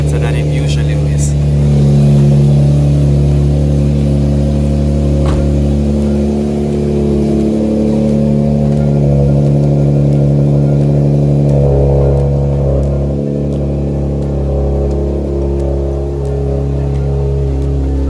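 A 2012 Infiniti G37X with newly installed exhaust headers idles and revs, a sustained loud engine drone with low rumbling tones and slight swells.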